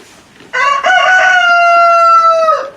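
A rooster crows once, loud and close, in a long sustained call that holds steady before trailing off.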